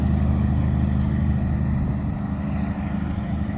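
A lorry on a road through a gas town in Australia, a loud, continuous low rumble and engine drone that holds steady and eases slightly toward the end, with no voices.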